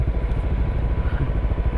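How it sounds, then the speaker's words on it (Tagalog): A motorcycle boards a ship at Batangas Port, its engine giving a loud, close, throbbing low rumble with uneven pulses and a bit of clatter. "So sasampa na yung motor."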